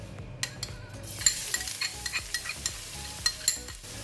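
Garlic frying in about five tablespoons of cooking oil in a pan, a bright crackling sizzle that rises after a quiet start, with repeated metallic scrapes and taps of a spatula stirring close up, no voices.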